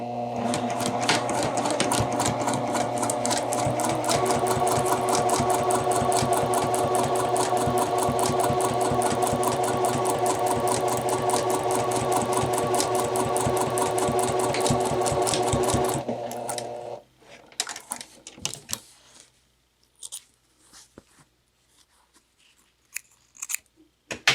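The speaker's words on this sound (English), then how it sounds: "stitching along the center back seam, 1/2 inch seam allowance, back tack at the beginning, back tack at the end" Sewing machine stitching the center back seam of a jacket's under collar with a half-inch seam allowance and back tacks at each end. Steady, close motor whir with rapid needle ticking runs about sixteen seconds, stops, then quiet handling noises follow.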